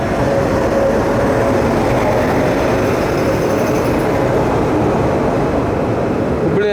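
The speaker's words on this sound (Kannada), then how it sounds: "ಯಾವುದೋ ಒಂದು ಟ್ರೈನ್ ಐತಲ್ರಿ" A train passes at Kushtagi railway station, a loud, close, unbroken rumble of rolling wheels and rail noise that stays constant throughout.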